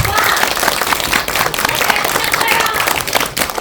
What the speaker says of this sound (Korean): 아주 큰 박수로 직관쌤 모시겠습니다.